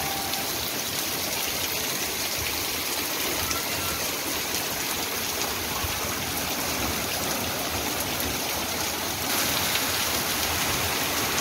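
Steady rain falling on a house in October, a dense continuous hiss of drops on surfaces, loud and unbroken throughout with no voices.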